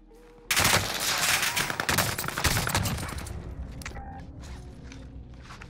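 A video game Owen gun SMG fires a sustained rattling burst up close, loud and continuous for a few seconds before trailing off into mechanical clicks and quieter game sounds.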